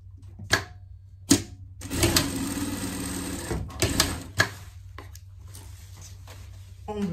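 Sewing machine stitching the shoulder seam of a denim pet vest, with short bursts of motor whir broken by pauses and a few sharp clicks, close and moderately loud.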